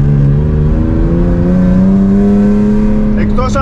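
A drift car's engine holds a steady, loud, high-revving drone on throttle, pitch rising slightly partway through, with a short higher squeal or rev flutter near the end.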